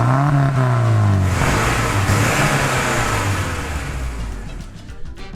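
A Porsche 944 accelerating away, its engine note rising through the revs in a loud, close sweep, then fading and thinning as the car pulls into the distance.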